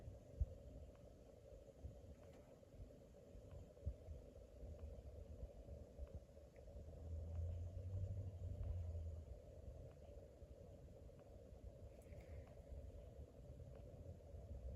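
A Reiker Room Conditioner ceiling fan runs at medium speed, giving a faint, steady low hum and rumble with a soft recurring throb from its motor.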